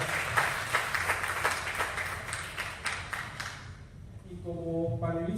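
Audience applause at a Mexican electoral tribunal panel event, moderate clapping that fades out after about four seconds, followed by a faint tonal ring.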